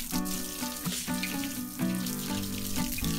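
Water running from a hose or tap while a sludge drying bed on a hog farm is washed down, a steady splashing rush close by and continuous with no talking.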